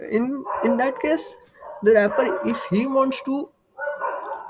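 A dog barks repeatedly in the background, sharp yaps and whimpers interleaved with someone talking in the foreground, the barking loud enough to cut through his speech.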